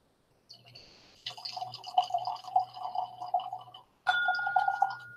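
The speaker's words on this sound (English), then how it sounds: "I was so fascinated by the pour." Whiskey poured from a bottle into a glass, a close gurgling, splashing pour in two bursts separated by a short pause, with quiet clinks.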